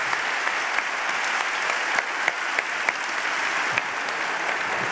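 An audience gives steady, dense applause throughout, loud and sustained, with scattered sharper claps standing out above the wash of clapping.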